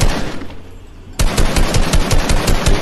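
Rapid bursts of automatic gunfire from a Fortnite match, quiet at first, then a loud, dense, continuous stream of shots from about the one-second mark onward, with no talking over it.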